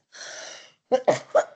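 A single sneeze, preceded by a short indrawn breath, followed by a few quick, sharp exhalations close to the microphone.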